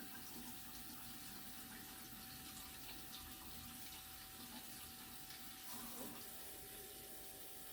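Steady water runs from a two-handle sink faucet with both handles open in a nursing-care practice setting, a faint, even rush that continues unbroken throughout.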